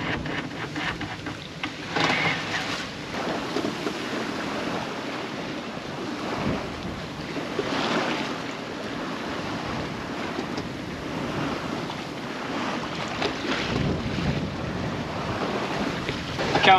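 Steady wind buffets the microphone while waves wash against a sailboat moving at 5 to 6 knots under sail without the engine off New Zealand's South Island, a continuous rushing roar with no talking.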